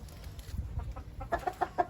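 Chickens, including an Indian rooster and a hen, cluck softly in a quick run of short notes toward the end, with faint shuffling and low background noise.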